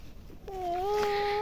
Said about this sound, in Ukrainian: Да, гарний котик до нас прибився.